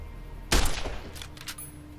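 A single sharp varmint rifle shot cracks out in Fallout New Vegas, loud and close, followed by a short decaying echo and faint game ambience.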